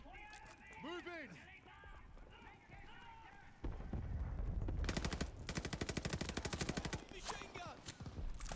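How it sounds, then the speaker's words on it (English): Machine gun fire in the Call of Duty: Vanguard campaign bursts in rapid, dense rattling volleys that are loud and near. Before the firing, voices speak over the battle, and the shooting continues steadily for several seconds to the end. "Machine gun."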